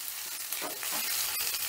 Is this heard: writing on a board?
no